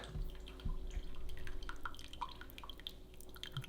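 Coffee drips during drip-method brewing, a faint, close patter of small liquid drops with soft splashes, quiet and unhurried.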